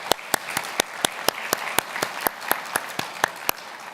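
Audience applause for a panel at an interfaith forum held in a synagogue, with a few sharp, evenly spaced nearby hand claps standing out loudly over a softer bed of crowd clapping.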